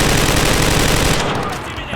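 A dense, rapid burst of SMG fire in the Enlisted video game, loud and close, lasting just over a second before cutting off.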